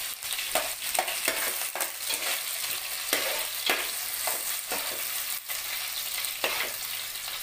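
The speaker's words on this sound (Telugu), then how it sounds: "వేడెక్కిన తర్వాత మనం ఫస్ట్ నెత్తళ్ళని వేసుకోవాలండి." Dried fish fry in hot sesame oil, giving a steady bright sizzle broken by repeated scraping stirs, close and fairly soft, with no talking.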